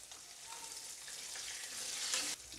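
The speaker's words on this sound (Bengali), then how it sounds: "মাছের একটা সাইড ভাজা হয়ে গেছে" Pieces of katla fish frying in hot oil in a home kitchen give a steady, soft sizzle that swells into a louder hiss near the end, with no talking.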